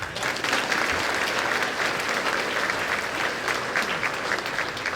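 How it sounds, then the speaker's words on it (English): Steady audience clapping at an eighth grade graduation ceremony, a dense, even round of applause from a crowd that holds at a constant level throughout. "we'll clap for that"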